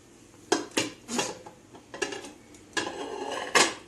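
A metal pan clatters in a handful of sharp, separate knocks and scrapes while a cake is flipped out of it, close by, with short pauses between them and no talking.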